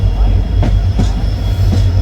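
A diesel passenger train, number 54551, on the Ambala Cantt to Bathinda route, rumbles steadily along the rails while turning toward Patiala. Wheel clatter comes through as a few sharp clicks over a constant low roar.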